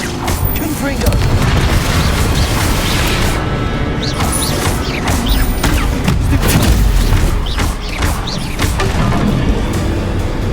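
Confringo fire spells blast enemies in the Hogwarts Legacy video game, producing loud, rapid booms, crashes and thuds in quick succession, layered with combat effects and game voices over about ten seconds.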